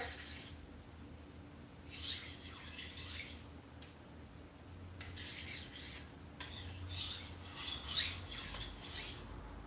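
Knife blade sharpened on a grit stone, with repeated rasping strokes in bursts of several seconds separated by short pauses, steady and close.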